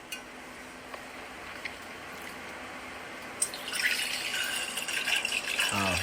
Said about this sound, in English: The next step is to pour grape juice.